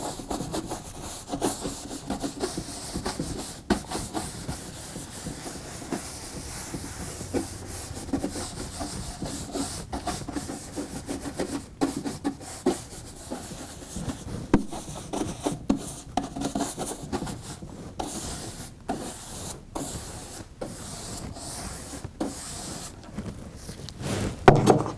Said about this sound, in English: I'm going to take Red Hot Ruby, and I'm going to scrub my surface.